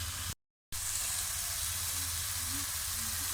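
Tomatoes and ground spices sizzle steadily in a frying pan, a close, continuous hiss and crackle that cuts out for a brief moment near the start before resuming.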